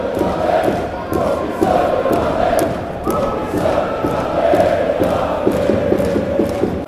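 Football fans in a stadium chant a player's name after a 4-0 home win in Gothenburg, a loud rhythmic crowd chant with repeated accented beats and sharp claps or shouts throughout.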